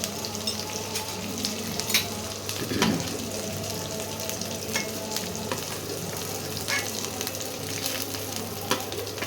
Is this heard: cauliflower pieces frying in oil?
yes